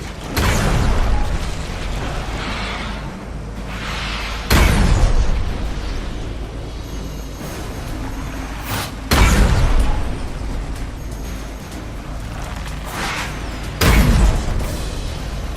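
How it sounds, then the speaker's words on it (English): Three heavy cannon blasts from the video game Disney Infinity 2.0, Ultimate Spider-Man, spaced several seconds apart, each a loud booming burst over a constant mechanical background rumble. "the cannon does get kind of annoying as far as the sounds it makes after a while"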